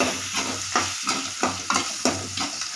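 Coriander paste frying in oil while being stirred in a pan, a steady sizzle broken by regular scraping strokes of a spoon about every third of a second, close and alone.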